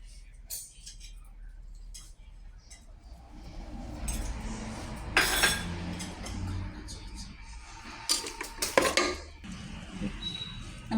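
Pots and utensils clatter with a few sharp metallic clinks as oil-free Kerala chicken curry is stirred in a pressure cooker pot, a soft kitchen background between the louder scraping bursts.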